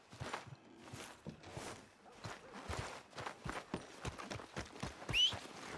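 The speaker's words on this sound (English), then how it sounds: "Are you gonna mount that new horse of yours or not?" Horse hooves clip-clopping in the video game Red Dead Redemption 2, a steady close rhythm of hoofbeats with a brief whinny near the end.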